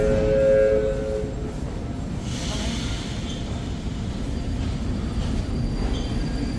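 A Moscow metro train hums and rumbles loudly close by, with a brief hiss and rising whine partway through, continuous with no clear talking.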